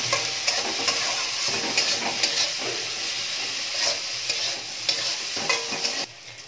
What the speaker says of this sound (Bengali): প্রথমে বেগুনটা একটু ভেজে নিই